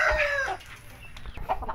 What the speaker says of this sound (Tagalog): Ito nga pala guys yung ating manok, tikbalang daw to.